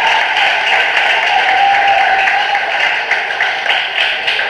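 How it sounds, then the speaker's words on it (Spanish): A church congregation claps steadily in a dense, sustained round of applause that fills the room, loud and unbroken for several seconds. "Denle un aplauso al Señor."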